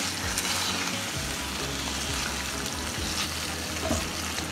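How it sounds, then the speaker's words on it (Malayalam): Prawns for Goan balchao fry in a pan over high flame, a dense, even crackling sizzle that runs unbroken throughout at moderate volume with no voices. "പ്രോൺസ് ജസ്റ്റ് ഇതിലേക്കൊന്ന് ഇട്ട് കൊടുത്തിട്ട് മിക്സ് ചെയ്യുക."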